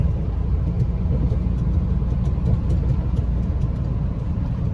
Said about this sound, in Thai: ตอนนี้ผมก็นั่งอยู่บนรถสิบล้อนะครับ